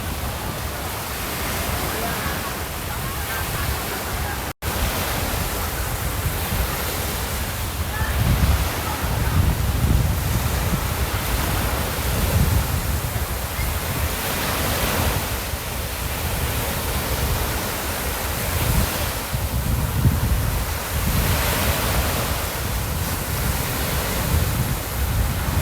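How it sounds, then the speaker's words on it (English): Sea waves roll onto the shore at a beach resort on a coral island, a steady loud wash of surf with slow swells and some wind buffeting the microphone, and no one speaking. "The waves are really not so cold, just the perfect temperature."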